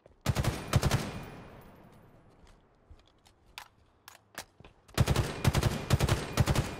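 Gunfire in Halo Infinite: two loud, rapid bursts of automatic shots near the start, a scatter of single shots in the middle, and a longer, fast burst to finish, all sharp and close with no talk.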